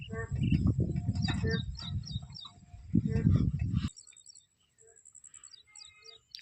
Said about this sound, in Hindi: मेंढक अब भी लगातार बोल रहे हैं